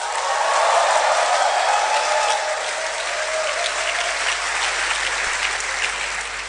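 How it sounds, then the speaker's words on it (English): A loud audience claps and calls out at a personal branding talk, the dense applause swelling early, then holding at a steady roar with mixed shouts underneath. "I want to hear a clap and a shout"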